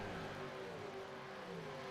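Supercars in the V8 Summer Series race as a dense engine roar, a steady broad rumble of many cars running together with a faint pitch sliding underneath.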